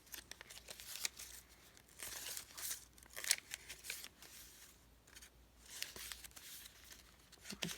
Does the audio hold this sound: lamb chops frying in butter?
no